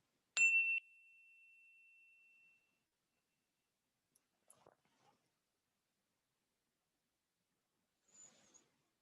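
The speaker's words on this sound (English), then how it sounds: "So the bell is a point of focus that allows us this" A meditation bell is struck once during a stress-reduction session, ringing clear and sustained before fading into quiet, with a few faint soft sounds afterward.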